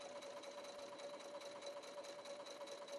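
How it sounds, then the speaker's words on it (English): A Husqvarna Viking Platinum Plus sewing machine sews in reverse, giving off a soft, even mechanical whir with a faint steady tone that runs without pause. "Your Platinum Plus sews in reverse as long as you hold the reverse button in."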